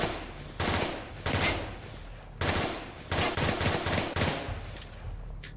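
Gunfire in the VR shooter Onward, a rifle firing several single shots, then a rapid cluster of sharp cracks with echoing tails, loud and close, followed by quiet.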